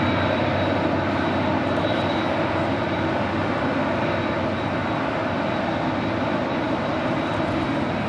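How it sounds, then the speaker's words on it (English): A Spirit Airlines Airbus A320 touching down on runway 25 left at LAX, a loud continuous broadband engine roar with a steady whine, unbroken and fairly close, no talking. "we just had a Spirit A320 touching down on 25 left"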